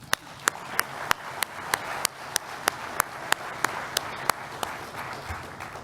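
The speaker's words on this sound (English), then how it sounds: "So I just want to give them a round of applause." At a business meeting, a fairly sparse group applauds under loud, regular claps from one nearby person, sharp evenly spaced cracks standing out above a softer bed of scattered clapping.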